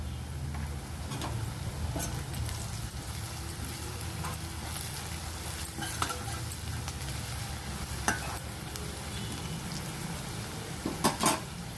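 Sliced yam frying in a pan as turmeric is added, with a steady broad sizzle throughout, occasional utensil scrapes and stirring clinks, and a few sharper taps near the end.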